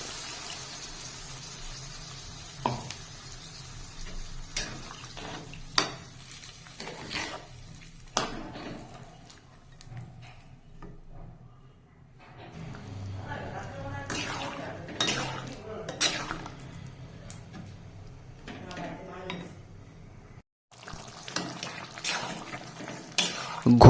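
Water pours into a pan of chicken ghugni, a Bengali dried-pea curry, with a soft rushing gush amid clinks and scrapes of utensils against the cookware, while quieter stretches of stirring and clatter surround it.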